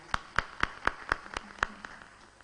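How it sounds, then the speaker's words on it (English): Forum audience giving a round of applause: about seven sharp, evenly spaced claps stand out over a faint, sparse patter, at moderate distance with no talk. "Another big round of applause, please"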